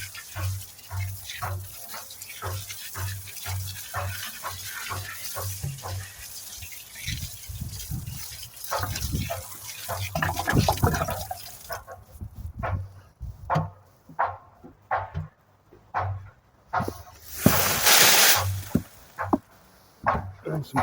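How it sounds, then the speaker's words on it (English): A watering can pours water onto a compost heap in a garden, a soft gushing splash that runs steadily, then breaks into intermittent trickles and a louder burst of pouring near the end. "Just going to give it a little drink of water first."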